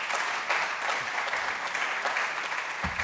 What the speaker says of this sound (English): So I would like to ask for a round of applause to all of them.